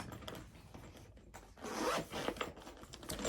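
A zipper on a three-layer makeup travel bag is pulled open in a few quick, close raspy zips after a soft rustle, fairly quiet, with no talking.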